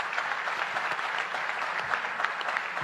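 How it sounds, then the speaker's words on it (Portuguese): Steady applause from an audience honouring independence fighters at a speech event, dense continuous clapping with no voices, moderately loud throughout. "Eu gostaria de pedir uma salva de palmas."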